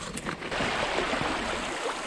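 Creek water flowing at an old quarry, where the stream dives under a debris pile near a big sycamore; a close, broadband rushing and gurgling wash that stays steady for a couple of seconds, with no voices.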